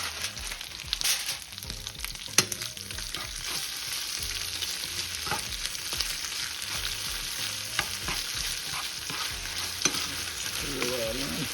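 Sausage and cheese sizzle in a pan while being stirred, producing a steady close frying hiss broken by frequent scraping and knocking utensil strokes, with no talking.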